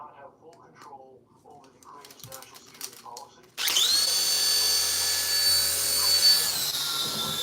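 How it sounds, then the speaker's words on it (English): A tiny drone's rotors whine in a steady high-pitched buzz that starts suddenly after a stretch of quiet talk and then holds close and loud for several seconds. "It's the tiniest drone."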